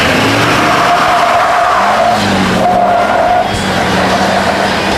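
A stock diesel 4x4 truck makes a quarter-mile drag run, its engine roaring loud and continuous with rising and shifting pitch and tire noise throughout, nearby and unbroken by voices.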